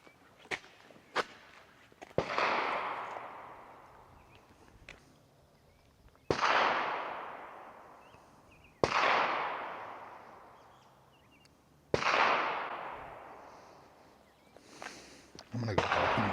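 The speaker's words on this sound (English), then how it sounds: "I don't know which direction they're shooting. I still hear them over there." Distant gunshots ring out near an abandoned missile site, four sharp reports spaced several seconds apart, each trailing a long echoing decay, with faint lighter pops and soft movement sounds in between.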